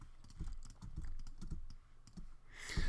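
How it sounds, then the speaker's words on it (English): Keys on a computer keyboard are pressed in a quick, uneven patter of close, crisp clicks and taps, with a slightly louder clack at the end. "I'm going to hit A on my keyboard, click this a little bit"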